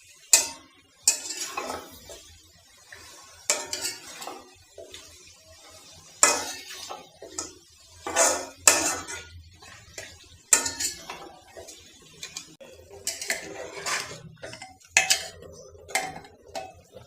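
A metal spoon clanks and scrapes in a pot while goat meat is stirred and fried, giving repeated close, sharp clinks and knocks in an irregular rhythm, with a faint sizzle underneath.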